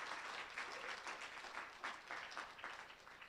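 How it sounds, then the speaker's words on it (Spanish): A university lecture audience applauds two speakers, steady clapping from many hands heard at a distance and fairly faint. "Más fuerte ese aplauso, chicos, para estos dos conferencistas."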